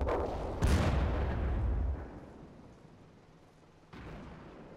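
World of Tanks tank cannon fires with one loud, deep boom that rolls away over a couple of seconds, followed later by a second, quieter thud.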